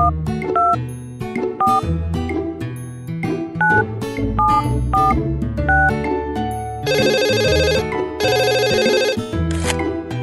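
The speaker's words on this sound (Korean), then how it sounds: "숫자를 눌러 병원에 전화를 걸어주세요." Telephone ringing in a Tayo children's game while a call is placed to a hospital: dialing tones in a melodic pattern, then loud, bright repeated rings, clear and close with no talk.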